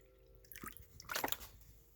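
Water pours briefly into a container while a plain water spray solution is being mixed for starting seeds, giving two short, faint splashing bursts close by with no talk.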